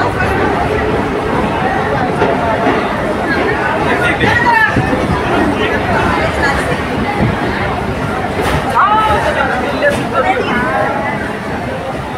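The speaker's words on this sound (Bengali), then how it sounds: "আর ট্রেনে বেশ ভিড়ও রয়েছে।" Dense crowd chatter fills a packed passenger train, a steady babble of many voices close around, with occasional louder voices standing out above the din.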